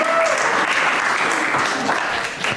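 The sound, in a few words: audience applause for the kitchen crew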